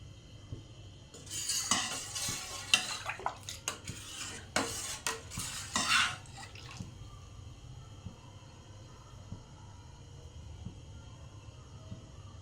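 A metal utensil scrapes and clinks against a pot while 2 litres of milk are stirred for kheer, several seconds of busy scraping that fade into a quiet steady hum.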